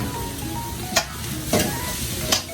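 Thai street-food stir-frying in two woks at once, a steady sizzle with three sharp clangs of metal on metal spaced across a couple of seconds, nearby and with no voices.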